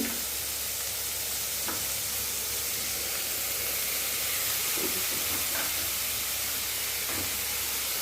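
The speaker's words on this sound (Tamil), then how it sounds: "வெங்காயம் நல்லா வதங்கட்டும்" Onions sautéing in a pan for a Tamil vadacurry dish, a steady close hiss and sizzle of frying with faint occasional stirring taps.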